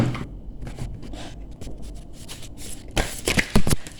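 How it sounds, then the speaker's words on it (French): A deck of oracle cards is shuffled close up with rapid papery riffles and flutters. A louder, denser burst of shuffling comes near the end. "Je vais commencer et battre les cartes pour le signe du Scorpion avec l'oracle de Merlin."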